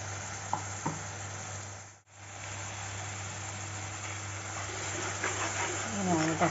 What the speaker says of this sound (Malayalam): അങ്ങനെയാണ് കേട്ടോ, തക്കാളി നല്ല ഫ്രൈ ആവണം.